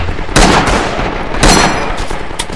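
Gunfire in the WWII shooter Rising Storm/Red Orchestra 2 during a jungle fight: loud, sharp shots, with two heavy blasts and a lighter crack spaced across the stretch over a constant rumbling battle background.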